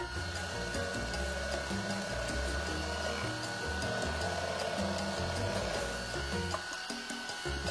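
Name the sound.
electric hand mixer mixing coconut milk cake batter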